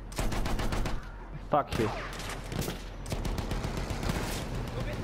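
Rapid bursts of gunfire in the video game Battlefield 1, a loud fusillade of repeated shots running throughout, with a voice swearing briefly over the shooting.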